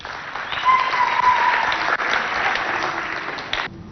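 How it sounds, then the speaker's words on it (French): A church Christmas program audience applauds as children are invited up, a dense, fairly loud burst of clapping that holds steady, then cuts off abruptly near the end. "Sous vos applaudissements, s'il vous plaît."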